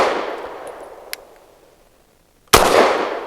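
Walther PDP F Pro pistol firing at a range, a sharp, loud shot with a ringing tail, a faint metallic clink in the middle, then a second loud report, with no speech.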